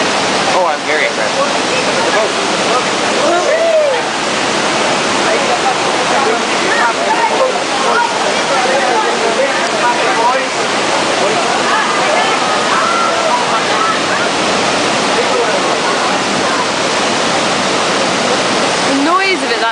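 Niagara Falls waterfall giving off a loud, continuous rushing roar of crashing water, steady and close, with faint voices beneath it.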